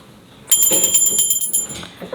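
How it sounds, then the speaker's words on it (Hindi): A small brass puja hand bell rings steadily for about a second and a half during a Karva Chauth worship ritual, bright and close, then stops with a brief trailing shimmer. "घंटी बजा देना है हमें"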